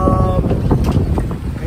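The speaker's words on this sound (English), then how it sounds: "We seem to have a bit of a squall coming in. Things are picking up" Wind from an incoming squall rushes past on a sailboat, a close, loud, steady buffeting roar across the microphone that runs throughout the short stretch.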